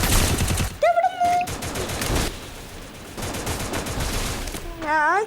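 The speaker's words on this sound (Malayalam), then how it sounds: "ഞാൻ വിചാരിച്ചു സ്നൈപ്പർ വെച്ചടിയാണെന്ന്" Gunfire rattles through a Free Fire match: rapid bursts of shots close up, broken by excited voices of players talking over the action.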